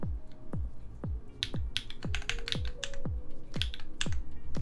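Keys clack steadily on a Keycult 1/60 mechanical keyboard, with sharp, close, even strokes and occasional quick bursts of several keys at once.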